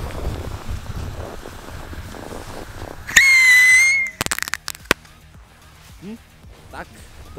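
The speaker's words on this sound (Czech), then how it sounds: "tohle jsou pískací tentokrát" Whistling firework rocket fired from a model plane outdoors: a loud rising shriek lasting about a second, then a cluster of sharp bangs and crackles before things go quiet, with faint background noise.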